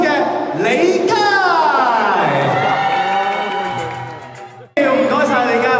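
A crowd cheers and whoops loudly at a televised fencing promotional event as a singer is welcomed on stage, with an amplified voice and music-like tones mixed into the noisy cheering.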